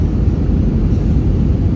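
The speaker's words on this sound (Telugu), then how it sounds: "విమానం అయితే దిగనీకి అయితే సిద్ధంగా ఉంది." A passenger airplane preparing to land at Delhi airport gives a loud, steady low cabin roar with broadband engine and air noise throughout, and no talk.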